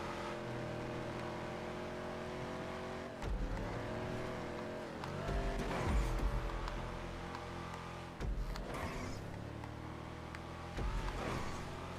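Race car engines roar and rev in a GTA Online video game race, with steady high engine drone, repeated gear shifts and surges of acceleration, loud and continuous.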